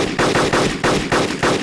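Machine gun fire in the DayZ Arma 2 mod video game rattles out in rapid, loud, evenly spaced bursts of shots, close and continuous.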